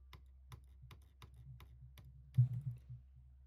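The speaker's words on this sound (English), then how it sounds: "So aggressive with my clicking" Sharp, evenly spaced clicks of a computer mouse or keyboard tap out at a brisk steady rhythm over a low hum, followed by a brief louder thump near the end.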